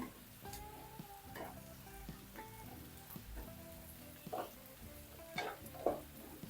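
Curry leaves dropped into hot oil over softened sautéed onions crackle and sizzle steadily, with a few louder pops and spatters toward the end, close up and with no voices.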